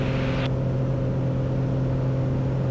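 Small single-engine airplane droning at steady close range, its harmonic hum holding even after a brief whoosh near the start as the throttle comes back, with no voices over it.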